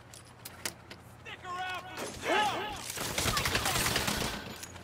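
Gunfire in a Saints Row video game crackles in bursts of rapid shots amid game effects and chatter, moderately loud and close.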